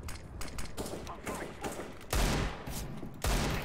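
Gunfire from a revolver in the Counter-Strike video game: a rapid cluster of crisp shots followed by two heavier, louder blasts, set against background game noise.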